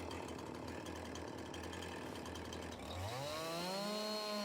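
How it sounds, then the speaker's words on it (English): A chainsaw in the video game Farming Simulator 22 cuts a tree, a loud steady buzzing drone that then revs up into a rising whine, close and continuous with no talk. "So I'll just have to take the stumps out with the chainsaw."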